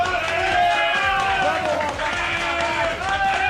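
Round of applause for a guest joining a Yakuza game-series show, dense continuous clapping mixed with cheering voices and crowd babble.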